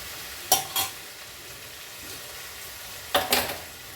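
Gongura leaves dropped into a pan of frying cucumber curry, giving two pairs of brief scraping, sizzling bursts close by over a low steady hiss, with quiet gaps between them.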